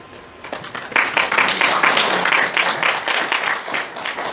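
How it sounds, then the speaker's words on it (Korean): A church congregation gives a warm round of applause for a visiting new family, steady dense clapping from a room full of people that swells and then tapers off. "환영의 박수."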